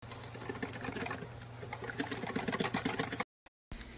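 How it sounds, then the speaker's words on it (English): Rapid whisking of crepe batter made from flour, plant milk and water in a bowl, a busy continuous patter of whisk strokes that cuts off abruptly near the end. "I'm going to whisk it up really"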